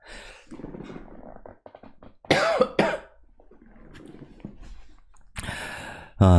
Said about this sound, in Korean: 기침이 나와서 기침을 하고 왔는데